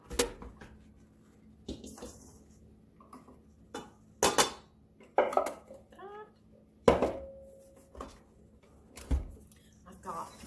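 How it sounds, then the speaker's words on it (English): Ground pecans being tipped from a food processor into a bowl for an apple crumb pie, heard as scattered knocks, scrapes and clinks of the container against the bowl, close and moderately loud among quieter pauses. "Now I'm going to dump it into the bowl."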